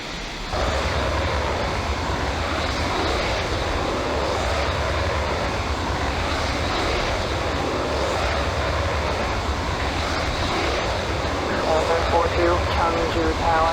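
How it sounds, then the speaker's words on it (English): A jet aircraft engine roars steadily during takeoff in the Falcon 4 Allied Force flight simulator, a loud broadband rush that holds for the whole stretch, with a voice talking over it. "Okay, let's go for the takeoff."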